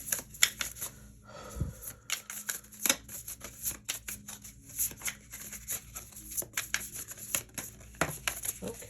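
Tarot cards are shuffled by hand in a continuous run of crisp riffling and slapping flicks, with a soft thump near the start; no one speaks.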